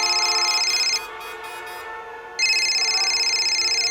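A phone rings in a police station with a bright electronic ringtone, two loud bursts of repeated tones separated by a short pause, close and clear with no talk over it.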